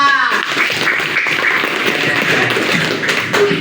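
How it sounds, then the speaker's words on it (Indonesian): Schoolchildren in a classroom clap together after a group presents its results, a brisk, close, fairly loud patter of many small hands that holds steady for a few seconds. "Tepuk tangan."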